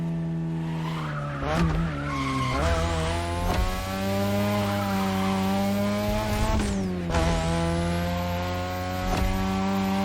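A 2002 third-generation Mazda RX-7 with a rotary engine races in The Crew Motorfest, its high, buzzing engine note climbing through gears with sharp drops at shifts and occasional tire squeals, loud and constant.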